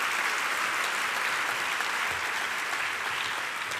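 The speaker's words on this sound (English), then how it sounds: "Please join me in a round of applause for those teams who worked hard to improve." A large audience at a university convocation ceremony applauds faculty teams, with dense, steady clapping that holds loud and continuous throughout, filling the room.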